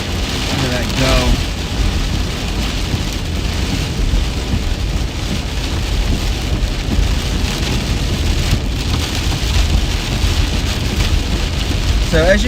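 Heavy rain hitting a vehicle while chasing a thunderstorm near Manhattan, Kansas, a loud steady roar and patter throughout, with brief voices over it.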